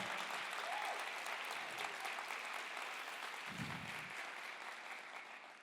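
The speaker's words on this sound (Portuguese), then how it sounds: "Pode aplaudir Jesus agora nessa manhã." A church congregation applauds during a morning service, a broad sustained wash of clapping that gradually eases off toward the end, with a brief low rumble in the middle.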